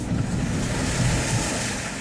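2015 Jeep Renegade Trailhawk ploughing through about a foot of water off-road, a loud, continuous broadband rush and splash of water with wind-like roar, steady throughout.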